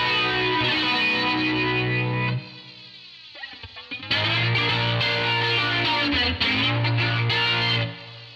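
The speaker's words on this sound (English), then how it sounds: "It sounds like flanging." Overdriven electric guitar chords on the neck pickup through a Boss BF-2 flanger pedal, a sweeping, whooshing effect, ringing out, briefly dropping to a few picked notes, then strumming again.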